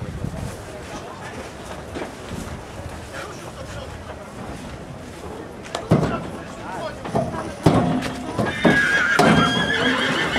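Horses being unloaded at a horse market, with loud, shrill whinnies breaking out near the end over a steady rumble of wind and handling noise, and people talking in the background.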